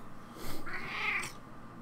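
A cat gives a single short, faint meow, soft and close in a quiet indoor room, with no voices over it.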